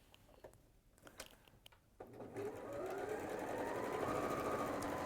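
A sewing machine stitching an embroidered cushion starts after a few soft handling clicks and then runs in a steady, fast whirring hum, close and without talk.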